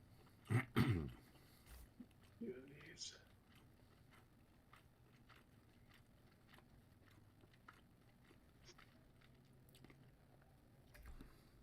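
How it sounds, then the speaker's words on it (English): Chewing during a dinner meal, a few wet bites and mouth noises up close near the start, then mostly quiet room tone with faint scattered clicks. "If you hear me chewing, it's because I'm eating my dinner."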